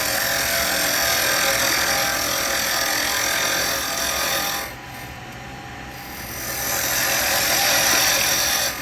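Wood lathe spinning laburnum while a tool cuts a tenon, a steady close whirring hiss with a brief dip in the middle before the cutting noise resumes, no talking.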